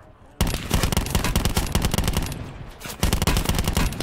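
Rapid automatic gunfire in Call of Duty Black Ops 4 Blackout, loud and close, with two long sustained bursts separated by a short pause.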